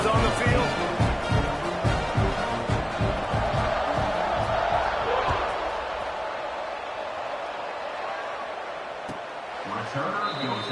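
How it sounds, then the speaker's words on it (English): A stadium crowd in the video game NCAA 26 roars during a Colorado Buffaloes college football game, with loud rhythmic thumping and chanting early that eases into a steadier, softer murmur as a commentator talks over it. "Do you think this crowd's going to get loud when their defense comes on the field?"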